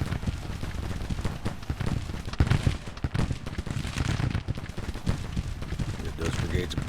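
Civil War video game battle with dense musket gunfire and artillery booms crackling continuously, some sharp reports standing out close while a constant rumble of volleys rolls behind, with voices mixed in.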